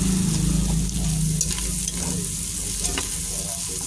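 Butter sizzles and fries in a pot while the ingredients for Filipino sopas are sautéed, with a steady close crackle and occasional utensil scrapes and stirs, and no talking.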